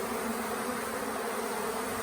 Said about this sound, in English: They're gonna all swarm out.